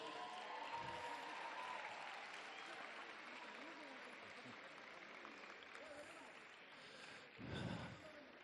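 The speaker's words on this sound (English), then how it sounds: "Just step forward and receive applause." Crowd at the Miss World 2025 sports finals in Gachibowli applauds winners with sustained, distant-sounding clapping that rises again near the end, while a voice speaks over it.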